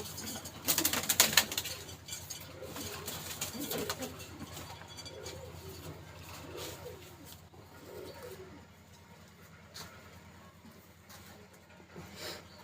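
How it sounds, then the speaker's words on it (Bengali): Soft, repeated cooing of imported Pakistani pigeons in a loft murmurs in a quiet background, with a brief burst of fluttering or handling noise early on as a male pigeon is held. "এটা এটা কি নর কবুতর এটা নর কবুতর"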